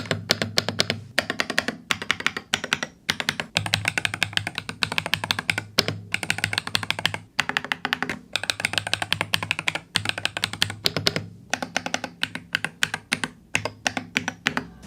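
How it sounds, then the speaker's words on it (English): Fast, continuous clacking of a mechanical keyboard, keys striking in a steady rapid rhythm with brief pauses, loud and close. "let's do a sound test on the keyboard real quick"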